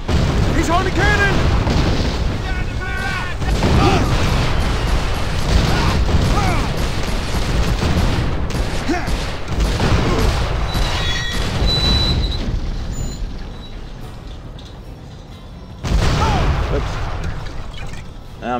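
Cannon fire and heavy booms in the Western action video game GUN, with loud blasts and mechanical clatter running through a dense, busy game mix, a brief quieter stretch near the end before another burst.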